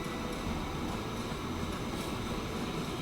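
A log train rumbles past in the railway game Transport Fever 2, a steady low rolling roar of wagons that holds evenly loud throughout with no voices.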